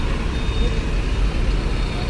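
Trucks moving through Bakauheni ferry port in the afternoon, a steady low engine rumble and road noise filling the scene throughout, with no clear gaps.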